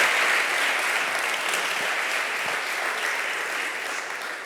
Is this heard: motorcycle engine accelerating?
no